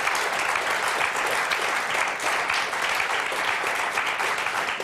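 Studio audience applause on a Bundesliga football talk show, a steady even wash of many hands clapping, sustained and moderately loud throughout.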